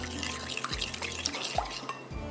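Chapli kabab mixture is worked by hand in a bowl, giving soft, wet squelching and faint dripping sounds in an irregular rhythm, quiet and close, with no talking.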